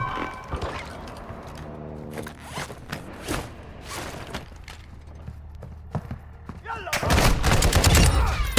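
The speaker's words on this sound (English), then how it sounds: "Shotgun shells blasting the shit out of you from way out there." Sharp shotgun blasts crack out in the shooter DMZ, scattered single reports amid game clatter, then a heavier sustained burst of gunfire at the end.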